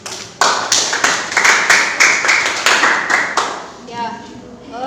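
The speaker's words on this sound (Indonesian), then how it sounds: "Silakan anak-anak boleh berikan tepuk tangan dulu" Students in a classroom clapping hands together in a steady, rhythmic unison beat of about a dozen claps, close and moderately loud, then fading out as a voice begins.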